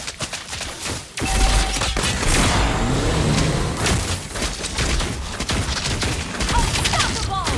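Gunfire from the mobile game Mobile Legends makes a dense, continuous barrage of loud shots and booms that runs almost unbroken for several seconds, with faint voice lines mixed in.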